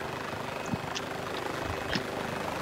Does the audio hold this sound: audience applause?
no